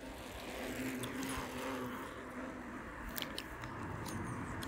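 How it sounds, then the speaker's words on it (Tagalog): Continuous roar of vehicles passing on a road outdoors, a steady broadband rush that swells and fades slightly with a few faint clicks on top. "Ang dami naman sasakyan na dumadaan."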